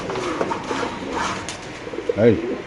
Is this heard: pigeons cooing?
yes